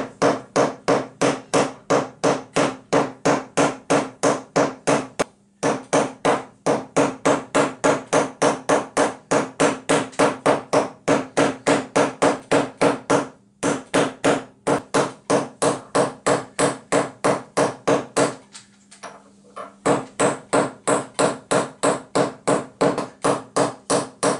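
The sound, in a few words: hammering lead weights on a wedged mallet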